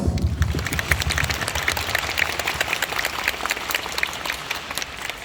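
Concert audience applauding at an encore show, a dense steady patter of many hands clapping that fills the room, holding through the whole stretch with a slight fade toward the end.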